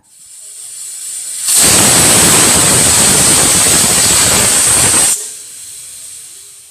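A pressure cooker cooking tomato bath lets out a loud, sustained hissing whistle of steam that holds for several seconds, then stops abruptly, leaving a softer background hiss.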